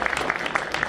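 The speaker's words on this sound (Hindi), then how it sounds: "जोरदार ताली भाई रमेश जी के लिए" A short burst of loud applause for Ramesh ji, with scattered, distinct hand claps popping over a brisk, close clatter.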